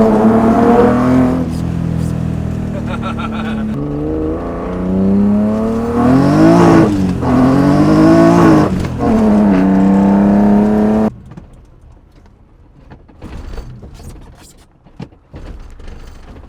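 A BMW E30 with a swapped S52 engine and individual throttle bodies, heard close and loud as it revs and accelerates in rising and falling pulls, then abruptly drops to a low, quieter rumble.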